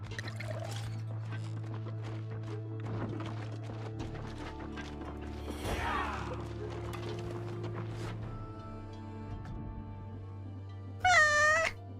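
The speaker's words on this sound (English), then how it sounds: "That's a cat." A cat meows once near the end, clear and close, over a steady low hum, clip-clopping hooves and scattered game effects in the video game Wartales.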